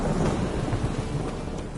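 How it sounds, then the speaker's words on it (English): Heavy rain pours with low rumbling thunder in the video game The Witcher 3, a loud, continuous storm wash with no voices over it. "Must be mad running around in this rain."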